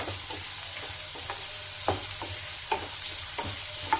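Cashews and onion roast in a pan with a continuous low sizzle, broken by several sharp scrapes and knocks as a spatula stirs them at uneven intervals.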